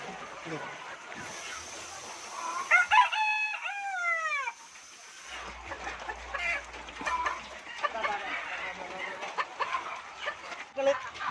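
In a chicken coop at feeding time, a rooster crows once with a rising, stretched call, surrounded by scattered clucking from a flock of chickens and light background chatter.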